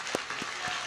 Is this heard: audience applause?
yes